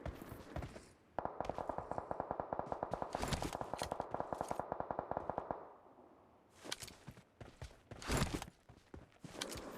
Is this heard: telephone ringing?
no